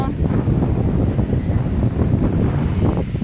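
Strong wind buffets the microphone in a continuous low rumble and gusty roar, with no voices heard.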